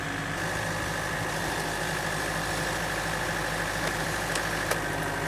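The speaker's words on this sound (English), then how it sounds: "And then turn the saw on." A chainsaw mounted on a pole limbsaw, worked from a tractor seat, runs in a steady buzzing drone close by, with a couple of faint clicks near the end.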